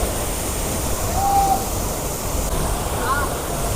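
Bhivpuri waterfall rushes hard in the monsoon, a loud, steady broadband roar of falling water filling the scene, close and unbroken.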